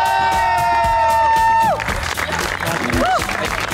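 A studio audience at an Eid special comedy show claps and cheers to welcome comedians Murtaza and Mustafa Chaudhry. The applause is loud and close, with whoops in the crowd, and a held voice and musical tone sound over its start.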